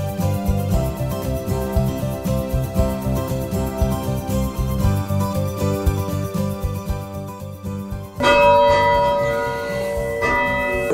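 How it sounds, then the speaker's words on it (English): An original church bell cast in the 1890s rings out loud and close, its sustained overlapping tones layering steadily, then a fresh, brighter strike near the end, with no talking. "It's just original bell from the church when it was built in the 1890s."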